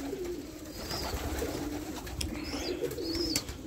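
Pigeons coo repeatedly in a loft among newly bought market birds, soft low rolling calls overlapping at close range, with a few faint higher chirps.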